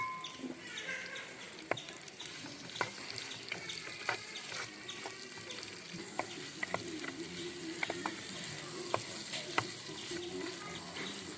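Three sliced onions fry in hot oil in a heated pan for a chicken parts gravy, giving a soft, continuous sizzle broken by sharp clinks and scrapes at irregular moments.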